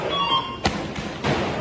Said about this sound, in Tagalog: sunod-sunod na putok ng baril na naririnig po natin